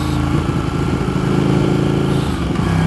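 Engine of a Ducati 1299 Panigale S on the move, a loud, steady, throbbing mechanical drone with a small pitch shift near the end, heard alone.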